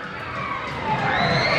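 Riders on an amusement ride scream together in a continuous, steady crowd roar of overlapping shrieks that swells slightly toward the end.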